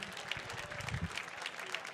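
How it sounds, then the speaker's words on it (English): An audience at The Mountaineers 2022 gala applauds honorees: a faint, brief patter of many hands clapping, steady and distant-sounding throughout. "can we give a big round of applause for Dianne Roberts, Jim Whittaker, Joss Whittaker, Leif Whittaker"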